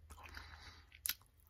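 A single bite into a fresh cashew apple, a faint soft wet crunch near the end after quiet chewing sounds, close and alone.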